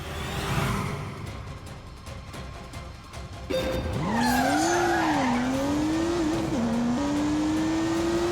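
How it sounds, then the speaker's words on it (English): A car spinning its wheels on a test track: after low rumble, a loud tire squeal rises and wavers for several seconds over a revving engine, close and dominant. "A skitter of wheel spin"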